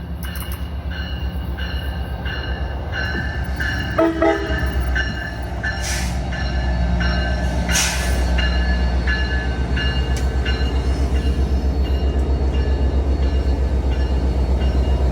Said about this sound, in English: He gave me some toots when he was pulling in.